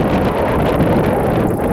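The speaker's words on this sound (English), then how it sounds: "It's pretty windy out here." Strong wind buffets the microphone outdoors beside a pond, a loud, steady rumbling roar that fills the whole short stretch with no voices.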